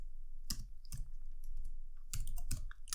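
Keys on a computer keyboard are typed in a short, irregular run of crisp clicks, close by and fairly quiet, with no talk over them.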